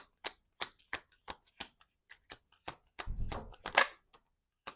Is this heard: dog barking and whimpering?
no